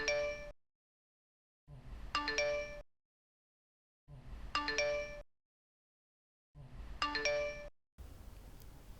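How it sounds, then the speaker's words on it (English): A mobile phone in the Australian outback repeatedly chimes with incoming message alerts: four identical bright, bell-like tone bursts at even intervals of about two seconds, close and clear with nothing else sounding. "with phone reception, we started to receive his messages"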